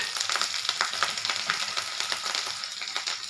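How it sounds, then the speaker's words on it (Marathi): Cumin seeds and two or three green chillies crackle in hot oil for sabudana khichdi, a busy close sizzle dotted with rapid pops and spits throughout. "आपण जिरं टाकूया आणि ह्या 2-3 मिरच्या घेतल्या त्या"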